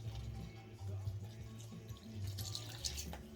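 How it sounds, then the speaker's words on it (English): Spicy jalapeño-infused water poured into a bowl of flour for a cheese boule dough, a soft continuous trickle with faint dripping, close and fairly quiet. "we're gonna go ahead and add our spicy jalapeno water to our flour"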